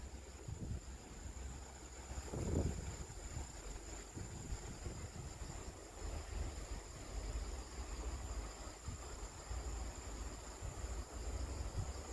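Typhoon Lingling's wind gusts steadily across a perilla field beside a birch farm, a constant rushing roar with low buffeting thumps on the microphone throughout.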